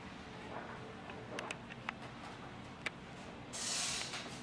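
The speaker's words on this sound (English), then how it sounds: "So we spray our hands down." Slip solution sprayed from a hand spray bottle onto hands during windshield film installation, a brief soft hiss near the end after a few faint clicks and rustles.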